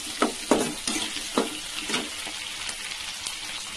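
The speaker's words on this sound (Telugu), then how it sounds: "అలాగే నెక్స్ట్ కరివేపాకు వేసుకుందాం. ఇప్పుడు ఇవి ఫ్రై అవ్వాలి." Green chillies and curry leaves crackle and sizzle in hot oil. A steady frying hiss runs under several sharp pops and stirring scrapes, which thin out toward the end.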